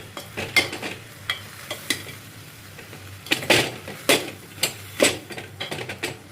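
Onions sautéing in oil for an Andhra-style okra tamarind curry, with a faint sizzle beneath sharp, irregular clinks and scrapes of a metal spoon against the pan, close by and without talking.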